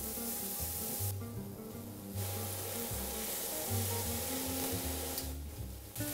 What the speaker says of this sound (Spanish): ya tenemos un poquito aquí salteada la cebolla y el ajo